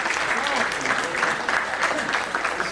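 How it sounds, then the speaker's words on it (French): Applause at a conference of the APTICA congress, a loud, dense burst of many hands clapping close by, sustained throughout with faint voices mixed in. "On va applaudir."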